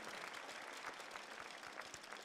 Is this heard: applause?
yes